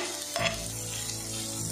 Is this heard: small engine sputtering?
no